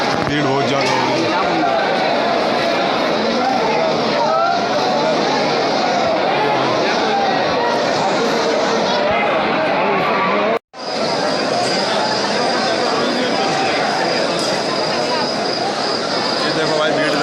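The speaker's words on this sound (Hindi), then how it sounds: "भीड़ बहुत ज़्यादा हो गई।" A packed crowd queues at Khatu Shyam temple, a continuous close babble of many voices and footsteps with scattered louder calls, briefly cut by a sharp gap partway through.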